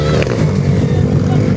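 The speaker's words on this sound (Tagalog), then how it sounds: "Partida, palyado yung motor niya ngayon." A misfiring motorcycle engine revs loudly and continuously, its rough, uneven drone running close and steady from start to finish.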